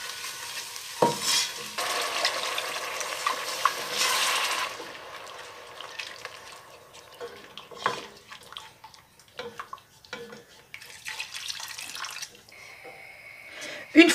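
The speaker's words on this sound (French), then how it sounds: "j'ajoute ma farine. On mélange. Et on va mouiller avec notre bouillon." Onions and flour being stirred in a frying pan, then broth poured in, with a hissing sizzle and liquid splashing, loudest early on and fading into quieter stirring scrapes.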